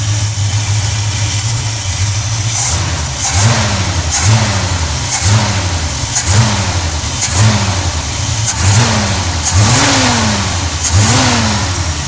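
A car engine with a cleaned Edelbrock carburetor idles steadily with a low rumble, punctuated by a series of short, regular revs rising and falling about once a second.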